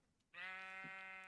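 A sheep in the Minecraft video game gives a single clear, sustained bleat that starts abruptly and holds steady, heard alone without talk.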